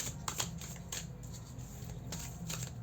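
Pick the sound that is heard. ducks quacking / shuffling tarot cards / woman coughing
shuffling tarot cards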